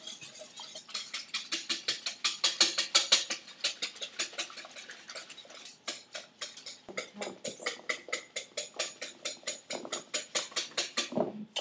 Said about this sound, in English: just take a whisk and just mix it very well until the eggs break